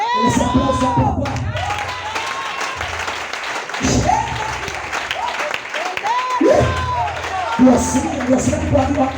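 A church congregation applauds and cheers during an evangelical sermon, loud clapping mixed with shouts and whoops, while a voice repeatedly cries out over the crowd in bursts.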